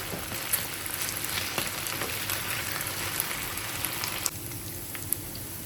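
Boneless chicken pieces for a chicken pickle fry in a pan, a steady soft crackle and sizzle running throughout at a moderate level, with a few sharper pops scattered near the end.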